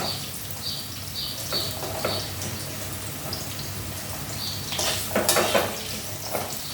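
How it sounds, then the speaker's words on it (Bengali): Long-cut potato and eggplant strips frying in a pan, a continuous close sizzle with occasional stirring scrapes and light clinks of utensil against the pan. "এটা একটু ভাজা হোক,"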